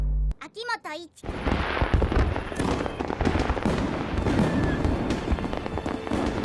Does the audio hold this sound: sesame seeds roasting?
no